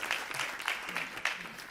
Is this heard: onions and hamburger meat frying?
no